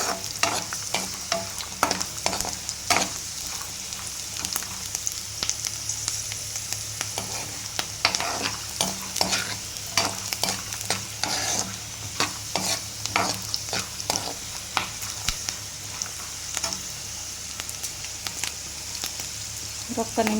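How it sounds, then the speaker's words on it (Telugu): Garlic and spices sizzle and fry in oil in a pan for a peanut and tomato chutney, with steady background crackle and frequent scraping stirs of a spoon, moderately close. "ఇవి అనేది ఇలా వేగుతున్నాయి కదండి, దీంట్లో మనము ఎల్లిపాయలు అనేది వేసేసుకుందాం"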